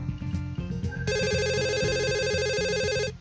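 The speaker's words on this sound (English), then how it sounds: "we both jumped in surprise at a sudden ring coming from my pocket" A phone rings suddenly from a pocket in the Katawa Shoujo visual novel. About a second into soft background music, a bright electronic ringtone starts and repeats steadily for roughly two seconds before cutting off.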